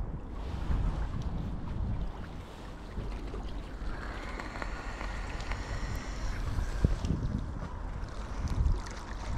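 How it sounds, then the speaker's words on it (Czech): Strong, unpleasant outdoor wind buffets the microphone with a steady, loud low roar and rumble that lasts throughout, with no voices. "Že ten vítr je fakt nepříjemný"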